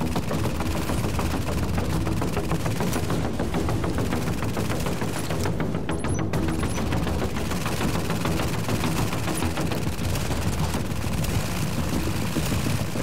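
Dense automatic gunfire crackles continuously in the Tom Clancy's The Division video game, with loud overlapping bursts of rifle fire and no pause across the whole stretch.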